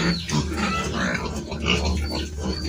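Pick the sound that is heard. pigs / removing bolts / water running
pigs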